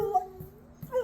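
A dog named as eager to set off on a hike whimpers in a few short, soft yips and whines, close by and fairly quiet, with no talking.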